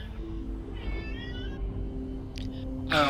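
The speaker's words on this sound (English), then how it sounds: "Has Bob got a demanding cat?" A demanding house cat meows once, drawn out and wavering, over a low rumbling background, followed by faint clicks and a brief burst of noise.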